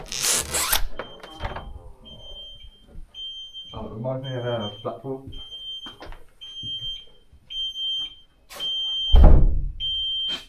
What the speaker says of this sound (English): We've had an alarm going or something.